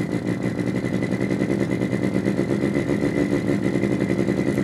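A synthesized engine-like drone from a function generator, a steady, buzzy mechanical hum with a pulsing low rumble, holding fairly constant and loud with no clear rise in pitch, no voices.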